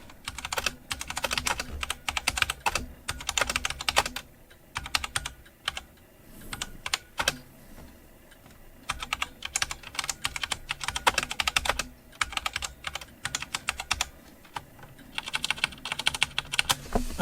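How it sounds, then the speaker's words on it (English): Continuous fast typing on a budget LEOBOG K23 mechanical keyboard, dense clacky keystrokes in bursts with short pauses, close and clear, no talking. "Okay, so let me just start typing."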